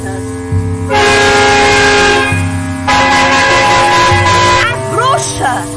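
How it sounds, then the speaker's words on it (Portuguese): Horns sound in loud sustained blasts, two long tonal honks separated by a brief gap, followed by shorter wavering hoots near the end, with children's voices underneath. "E as crianças tocavam buzinas."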